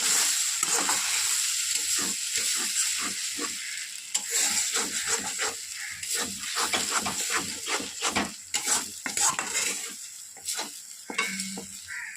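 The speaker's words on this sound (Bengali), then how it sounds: "ডিমটা একটুখানি ভুজির মতো ভাজা ভাজা করবো।" Two eggs fry in a hot pan and are scrambled, a steady close sizzle with rapid, irregular scraping and stirring strokes throughout, with no talking.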